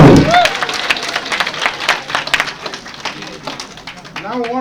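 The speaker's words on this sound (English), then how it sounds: "let's just give our candidate a big hand clap." An assembly audience at a general meeting claps for a candidate, a dense spread of hand clapping that swells early and tapers off, with a voice speaking at the start and again near the end.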